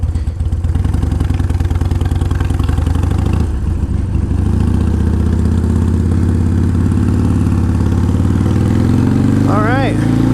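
A motorcycle engine hums steadily as it is ridden, with a continuous low drone and some clatter while a person talks over it; the engine note rises briefly near the end.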